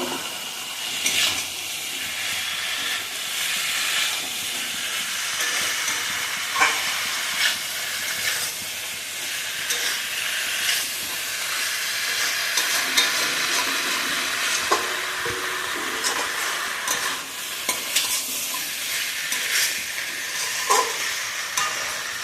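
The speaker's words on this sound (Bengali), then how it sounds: "লতিটা দিয়ে আমি আবার ভালোভাবে কষিয়ে নেবো।" Boiled taro stolons are sautéed in a pan for a spicy Bengali curry with prawns, giving a steady close hiss of frying with scattered scraping stir clicks, continuous and without talk.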